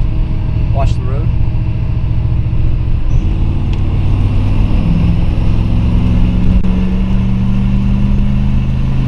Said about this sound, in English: I've downshifted in a second, and we're at like 1500 RPM.